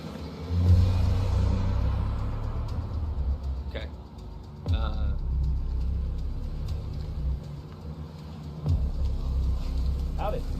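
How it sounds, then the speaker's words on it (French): Noisy truck arriving near a research centre, a steady low engine rumble with swelling revs and rattles, moderately close and sustained throughout, with some voices faintly underneath. "Donc là, il y a un camion bruyant qui arrive."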